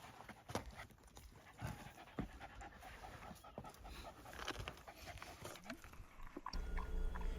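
A small dog pants rapidly in a steady rhythm after a long hike in desert canyon country, close by and fairly quiet, with faint outdoor background and no talking.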